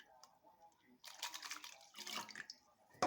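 Water runs and splashes from a tap while rice is washed for cooking, faint and close, coming in two short bursts over quiet background.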